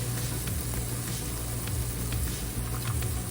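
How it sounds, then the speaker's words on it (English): Diced red peppers and red onions hitting a hot pan for an omelette give a steady, close hiss of sizzling that holds at an even level throughout with no talking. "first I'm going to add some diced red peppers, and then we'll add our red onions"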